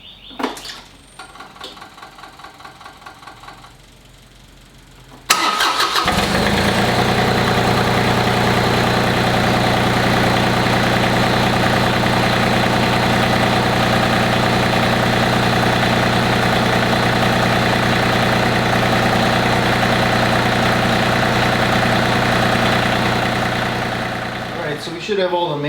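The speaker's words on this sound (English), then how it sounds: "so let's start it up and see how we do here" John Deere 3025e compact tractor: a brief fuel pump buzz, then the diesel engine cranks and catches, settling into a loud, steady idle rumble that holds for about twenty seconds.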